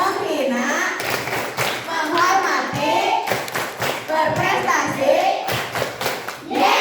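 Elementary school children chant and clap together in an anti-bullying clap routine, sharp rhythmic bursts of hand claps mixed with loud group chanting in a hall.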